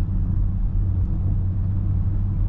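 An Iveco Daily van engine lugging at low revs in fourth gear just after a downshift gives a steady, close, low-pitched droning rumble that holds even throughout, with no voices.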